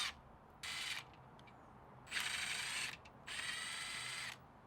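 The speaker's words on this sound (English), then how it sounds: "let's start off by removing these bolts right here that are on the radiator right now." Ratchet turns back out bolts on a Koyo racing radiator in a 2018 Subaru STI, with three separate bursts of quick, close clicking separated by pauses.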